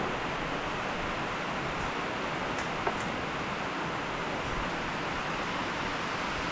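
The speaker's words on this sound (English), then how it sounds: "I have to excuse the noise this morning, it's raining." Steady rain falling outdoors by a WoodMizer LT35 sawmill during routine maintenance, an even hiss of dense drops that stays unchanged throughout, with no voices.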